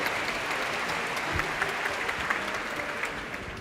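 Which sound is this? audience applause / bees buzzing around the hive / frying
audience applause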